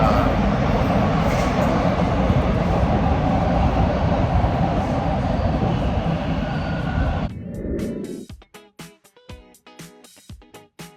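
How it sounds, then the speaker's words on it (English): A loud rushing roar of a passing train fills most of the clip, then cuts off, leaving people talking nearby. "The train is coming"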